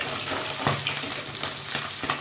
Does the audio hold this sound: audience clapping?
no